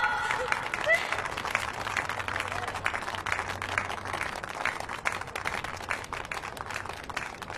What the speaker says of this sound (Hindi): मेरी तरह खुश रहना सीखो दोस्तों, ताली बजाओ।